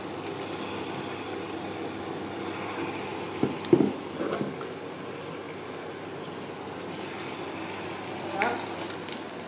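Doughnut batter slices frying in hot oil, a soft steady sizzle with a few brief clinks and splashes partway through, fairly quiet and with no talking.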